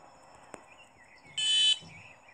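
A single short car horn beep in a Roblox driving game, a bright electronic tone lasting about a third of a second, with a brief click just before it.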